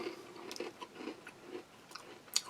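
Close crunchy bites and chewing of a crisp, broken chocolate chip cookie, soft crackling with a sharper crunch near the end, no talking.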